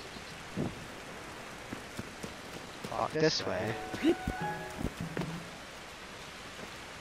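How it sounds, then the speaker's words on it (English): Rain falls steadily in the video game Tears of the Kingdom, a soft even hiss throughout, with a person talking in the middle and a few in-game sound effects. "I did not enter the rain."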